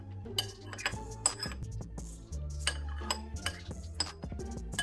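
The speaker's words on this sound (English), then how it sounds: "I don't like to scrape the bowl" A utensil scrapes around a bowl coated in hot wing sauce, giving close, repeated scratchy clinks and squeaky strokes in an uneven rhythm over a steady low background.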